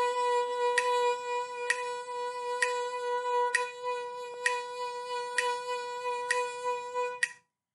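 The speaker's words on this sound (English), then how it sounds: "The next one I'll do is triplets, which will sound like this." A violin practising a vibrato exercise in triplets: one steady, sustained note rings alone and close, with faint regular pulses about every second.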